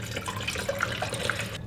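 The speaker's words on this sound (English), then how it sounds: "So we're going to get the water poured in here." About 16 ounces of bottled water pours into a small pot on a camping stove, a close, bubbling trickle with light splashes that stops abruptly.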